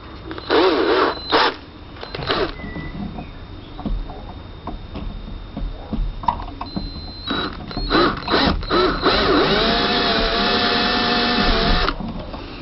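A power drill bores cooling holes in an FT009 RC boat hull, giving bursts of high whirring with short pauses and then a longer sustained grind, loud and close, with no talking.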